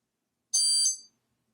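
A wireless alarm system gives a short, shrill electronic tone once for about half a second, clear and near, then cuts off into silence.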